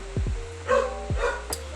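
A dog gives a few short barks and yips indoors, mid-distance and moderately loud, heard in a quiet room with a faint background hum.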